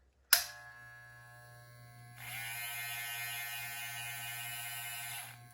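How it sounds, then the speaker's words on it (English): Corded Andis T-Outliner hair clippers give a sharp click, then switch on into a steady, close electric buzz that holds evenly for several seconds with no talking. "I have my corded T outliners out here to do"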